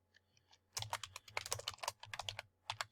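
Rapid clicking keystrokes on a computer keyboard, typed in quick uneven bursts after a brief pause, close and fairly quiet with no talking.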